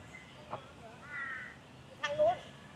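Crows caw in a park in Cambodia, a few scattered harsh calls from one or more birds at moderate distance over a quiet outdoor background.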